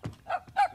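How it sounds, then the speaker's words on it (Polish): A cartoon puppy in a kitchen gives two short, bright barks or yips about a quarter second apart, close and clear with nothing else behind them. "On szczeka!"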